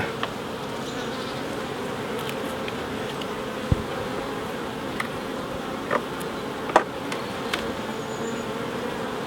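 A dense, steady hum of many honeybees buzzing close by at an open hive during an October check, with occasional louder individual bees and small clicks cutting through.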